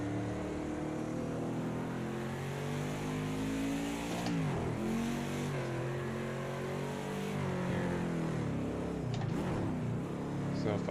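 A NASCAR stock car engine in a racing video game drones and revs steadily while spinning on snow, its pitch rising and falling in loud waves over about eleven seconds as a voice talks alongside.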